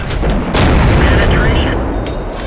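A tank destroyer's cannon firing in a tank video game: a loud, close boom with a heavy rumbling tail, while someone talks over it.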